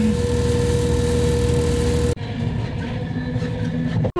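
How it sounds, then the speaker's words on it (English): A train arriving at a station rumbles loudly with a steady engine drone and a high whine, then the noise cuts to a quieter, rattling hum of rail cars. "My train's here."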